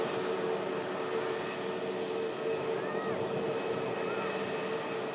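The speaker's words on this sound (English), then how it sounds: "Egypt Air taxis past." An Egypt Air airliner taxis past at Manchester Airport, its jet engines giving a steady, broad roar that holds at an even level throughout.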